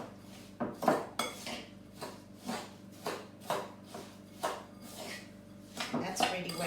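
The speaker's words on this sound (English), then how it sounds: "Make sure the carrots are nicely mixed with the sugar and the oil." Grated carrots, sugar and oil for carrot muffins being mixed in a large bowl, a regular series of about a dozen scraping, clinking strokes of a utensil against the bowl, close and moderately quiet.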